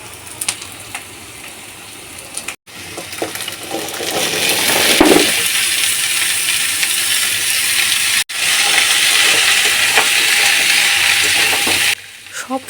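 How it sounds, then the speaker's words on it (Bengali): Vegetables including raw papaya and boiled peas are stirred through fried spice masala in a pan, giving a loud, steady sizzling hiss broken by a couple of short pauses, with a scrape and clink of the spoon. "কষানো মশলার উপর দিয়ে ভালো করে নাড়াচাড়া করে নেব।"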